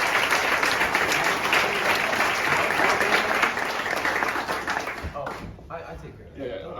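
A round of applause from a crowd gathered at the grand re-opening of the Rib Lake Segment of the Ice Age Trail, strong sustained clapping that gradually thins and fades out toward the end.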